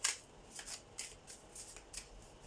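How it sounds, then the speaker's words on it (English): Tarot cards being shuffled up close, a series of soft riffling bursts in quick succession, fairly quiet with no voices over them. "shuffle the cards and actually get the cards that pertain to this here"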